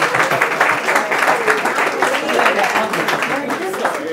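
Dense, loud applause fills the room at an open mic reunion show, continuous and close, with voices mixing into the clapping.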